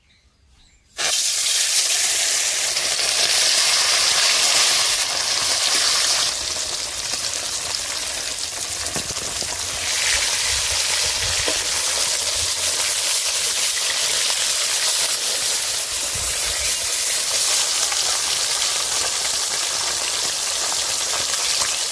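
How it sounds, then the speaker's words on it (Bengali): Small fish sizzling in hot oil in a home kitchen pan, fried for a gourd and fish dish; a loud, steady crackling hiss starts abruptly and continues without a break, with no voices. "মাছগুলো একটা একটা করে তেলের উপর দিয়ে দিচ্ছি।"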